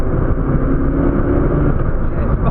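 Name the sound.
turbocharged Porsche 959 or Ferrari 288 GTO accelerating on boost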